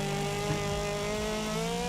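An inline-six engine in the Wreckfest racing game holds high revs with a steady, loud, droning roar and a slight pitch wobble. It runs continuously and up close without speech.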